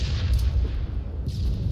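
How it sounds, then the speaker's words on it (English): A grenade explodes in a Halo-style online shooter match, a deep, heavy boom that rumbles low and loud through the whole short moment without speech. "You hit him with a nade"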